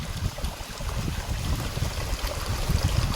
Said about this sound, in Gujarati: સરસ મજાનું પાણી આવે છે